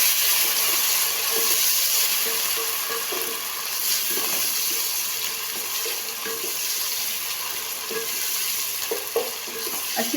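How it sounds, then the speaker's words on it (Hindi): Garlic and ginger paste fries in a pan for chicken karahi, giving a steady, close sizzling hiss with occasional soft scrapes and taps of stirring throughout, and no talking. "अच्छी तरह लहसुन अदरक भून जाए।"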